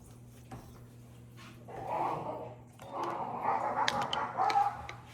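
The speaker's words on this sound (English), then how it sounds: "World War III is happening outside my home between 2 dogs who are just playing" Two dogs play outside, giving muffled barks, yips and whimpers in bursts that build over a few seconds, heard from indoors at a moderate distance.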